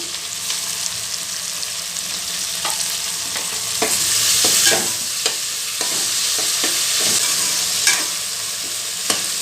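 Okra and tomato fry in a pan while being stirred, a loud steady sizzle broken by repeated scraping and clattering of the spoon against the pan.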